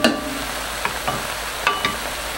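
Sliced leeks stirred in a pot for potato leek soup, a soft constant sizzle broken by a few scattered scrapes and taps of the spoon.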